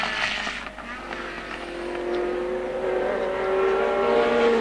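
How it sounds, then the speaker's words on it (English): Jack Brabham's Formula 1 race car at the 1970 British Grand Prix starts its last lap, a steady engine note that builds slightly louder, rising in pitch over a broad roar of the circuit. "And there's Jack Brabham coming up to start his last lap."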